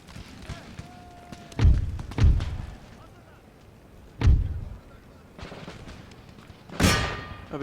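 Cannon and musket volleys in Empire Total War: four heavy booming blasts spaced a second or two apart, loud and close, with rumbling tails and a faint whistle between shots.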